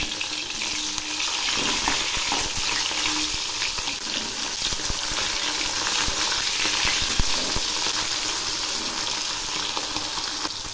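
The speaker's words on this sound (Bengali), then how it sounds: "এক পাশ ভাজা হয়ে গেছে, এবার আমি উল্টে দিচ্ছি" Parshe fish fry in oil in a pan, a loud, dense, continuous sizzle with occasional spatters and faint utensil sounds, close and without talk.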